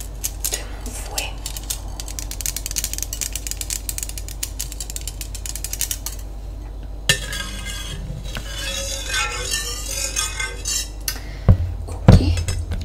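A metal kitchen whisk picked up and handled while preparing a chestnut moelleux cake, giving close, continuous rattling and clinking of wire against utensils, with a few sharper clanks near the end.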